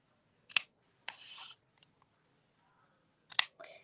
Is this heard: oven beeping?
no